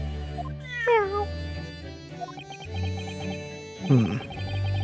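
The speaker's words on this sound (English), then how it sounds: "Is that Soseki's cat?" A cat meows twice in The Great Ace Attorney Chronicles video game, with a rising-falling call near the start and another a few seconds later, set over soft game background music.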